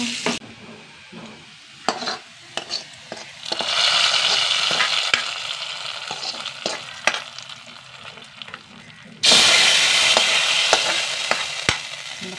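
Chopped shallots and onions fry in hot oil in a pan, a steady loud sizzle with occasional stirring scrapes, swelling up twice as more goes in, no voices.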